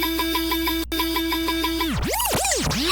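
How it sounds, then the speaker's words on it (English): Synth sound run through ShaperBox with scratching, bit crushing and drive: a steady, pulsing harmonic tone that cuts out briefly, then bends into swooping pitch dips like a scratched record, loud and alone. "The shaper box is doing some time scratching."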